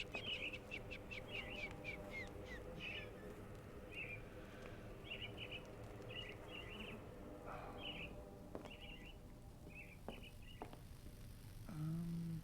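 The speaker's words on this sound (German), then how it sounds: "ich glaube, das ist ein Vogel." Birds chirp in short repeated bursts throughout a quiet ambience in the video game Sherlock Holmes The Awakened, faint and a little distant, with a low ambient drone beneath.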